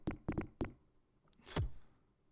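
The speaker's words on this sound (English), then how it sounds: "I think I'll knock." Three sharp knocks on a wooden door in The Secret of Monkey Island, quick and close, two in fast succession then a third, followed by a brief whooshing game sound effect.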